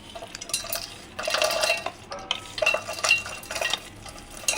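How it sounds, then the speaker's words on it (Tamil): Roasted dry fruits for a sugar-free laddu being moved into a mixer jar, with scraping, clinking spoon-on-metal and rattling nuts in uneven close bursts and no talk. "இப்போ நம்ம இதை ஜாரில் மாற்றிக்கலாம்."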